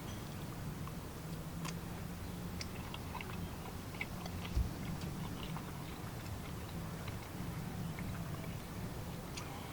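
Baby back ribs with a sweet rub, smoked on a Rec Tec 700, being chewed: soft, close mastication sounds with a single sharper bite, faint against a low background hum.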